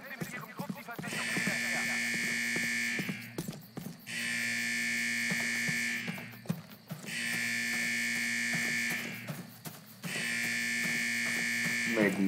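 A Call of Duty alarm rings in long buzzing bursts of about three seconds with short gaps, repeating steadily, with someone talking under it.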